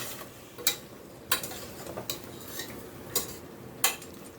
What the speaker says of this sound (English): So this, I would give it a good mix.